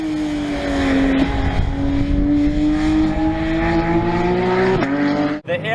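A Porsche 911 GT3 RS engine screams at the Nürburgring, a loud, close, steady high-revving howl that climbs gradually, drops briefly at a gear change and then cuts off sharply near the end.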